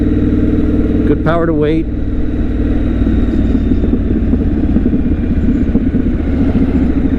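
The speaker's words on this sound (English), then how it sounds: "Triumph knows what they're doing with this motor. Sounds great." A Triumph Scrambler motorcycle engine running steadily nearby with a throaty, rumbling idle, as someone speaks briefly over it early on.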